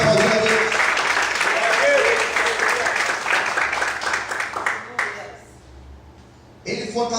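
A church congregation claps together during a morning service, a dense, steady wash of applause that drops away near the end before a brief burst returns.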